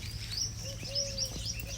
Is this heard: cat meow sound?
no